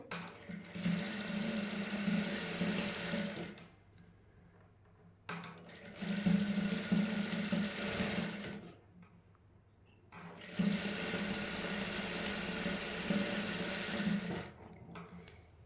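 A sewing machine stitches the flared hem of a garment, running slowly in three sustained bursts of steady whirring with short quiet pauses between them, close and clear with no talking.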